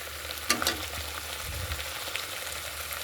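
Spice paste frying in oil in a pan, a steady soft sizzle throughout with a couple of brief clinks of stirring near the start; no talking.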